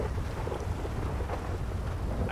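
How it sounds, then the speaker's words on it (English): Thunder rumbles through a steady rainstorm in the video game GTA V, a continuous low roll with dense rain hiss over it, fairly loud and without pauses. "I don't remember thunder being in the game."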